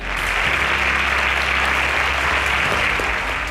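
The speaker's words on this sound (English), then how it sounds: "Round of applause for them." A quiz show audience applauds steadily, a dense wash of clapping that holds at full strength for a few seconds.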